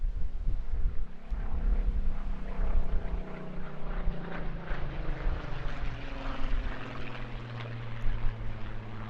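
Historically accurate propeller aircraft flying at the Eastbourne International Airshow, a steady droning engine roar with shifting pitch as it passes, loud and continuous throughout.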